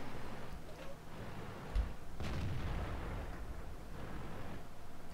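Artillery fire in World of Tanks arrives as a muffled boom amid steady rumbling battle noise, with a sharper impact partway through and a continuous low background.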